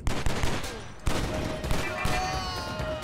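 Dense, continuous gunfire from the video game Stranglehold, loud bursts and overlapping shots with a sharp report near the middle, under steady game noise.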